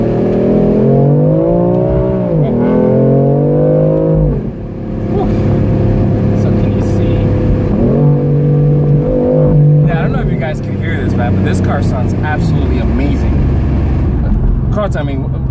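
A 2018 BMW M4 Convertible Competition's engine revs and pulls loudly from inside the car, rising and falling through several accelerations under close conversation.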